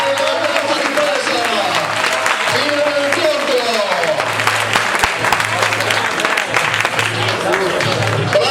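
Sustained crowd applause at a basketball game, steady and loud throughout, with a voice speaking over the clapping.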